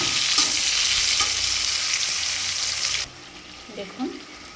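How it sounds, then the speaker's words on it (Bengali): Raw plantain and potato fry together in hot oil, a loud, steady sizzle close by for about three seconds before dropping away to quiet, with a few soft clinks from the pan. "এখানে হচ্ছে একটা কাঠকলা আর একটি আলু এটা একসাথে ভেজে নিচ্ছি"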